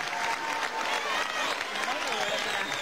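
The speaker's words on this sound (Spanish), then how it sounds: "Un aplauso para Esperanza." Crowd applauding for Esperanza at a pension handover event, steady dense clapping filling the whole moment with faint voices and cheers mixed in.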